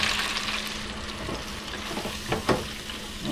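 Catfish fillets frying in a pan, a steady close hiss of sizzling oil with a few brief louder crackles and utensil stirs near the end.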